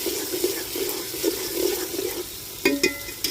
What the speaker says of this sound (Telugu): ఇప్పుడు చికెన్ వేసుకోవాలి.